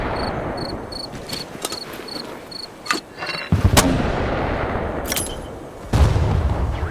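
Artillery piece firing in the Vietnam-era shooter Hell Let Loose, heavy booms landing at irregular intervals over a steady bed of insect chirping and distant gunfire.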